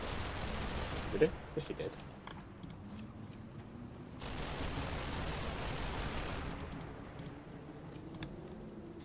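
Gunfire traded back and forth in a military strategy video game, a sharp burst followed by long stretches of steady rattling fusillade, with a voice talking over the shooting.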